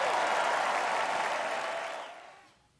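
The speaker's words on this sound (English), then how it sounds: "to enthusiastic cheers from a crowd" Loud, dense crowd cheering and applause fills a Republican convention hall, sustained at full strength before tapering off and fading out near the end.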